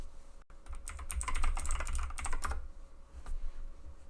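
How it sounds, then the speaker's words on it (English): Rapid keyboard typing on a computer while chatting in Old School RuneScape, a close, steady clatter of keystrokes for about two seconds that then trails off into quiet room tone. "let me just type that in chat"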